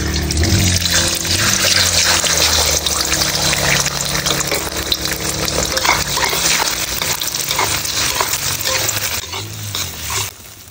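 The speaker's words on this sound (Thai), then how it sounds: "ต่อไปนะครับผมใส่ไข่เจียว" Beaten eggs for an omelette fry loudly in a pan of hot oil, a dense, continuous sizzle close by that fades slightly near the end, with faint clatter mixed in.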